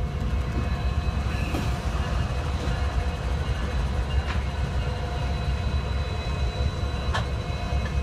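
An eastbound CSX mixed freight train passes near Brunswick, Maryland, with a steady low rumble of locomotives and cars rolling by, faint metallic squeals, and a few people talking quietly beneath it.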